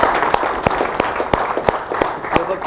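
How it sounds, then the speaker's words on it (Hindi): Students applaud a classmate at a three-day stock market workshop, a burst of steady, moderately loud hand claps with a few sharper individual claps standing out above the crowd. "थोड़ा एक जबरदस्त तालियां उदित के लिए"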